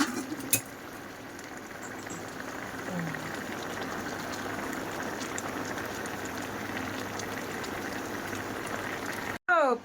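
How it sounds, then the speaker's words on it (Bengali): Curry broth boils in a cooking pot, a steady dense bubbling hiss that runs for several seconds at moderate level, with a brief clatter near the start and a sharp cut at the end. "তো এই যে দেখো তরকারি ঝোল ফুটছে"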